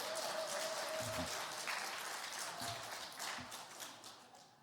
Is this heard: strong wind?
no